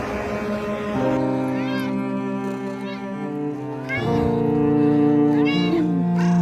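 A small kitten stranded on a highway meows several times in short harmonic cries, close and fairly loud, over a steady droning engine hum, with a few other noises around it.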